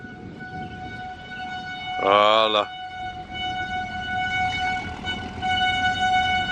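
A voice imitates a train horn, giving one short, loud, wavering blast over a steady droning background hum, with casual talk before and after.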